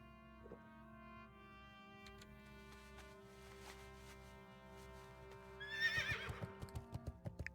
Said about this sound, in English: Giddy up there, horsey.